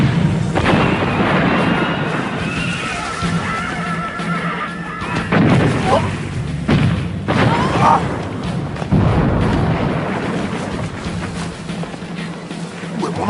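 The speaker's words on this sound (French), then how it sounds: "Canon de feu!" Cannon fire and explosions as an army attacks, deep booms rolling under a busy battle scene with horse whinnies and shouting voices throughout.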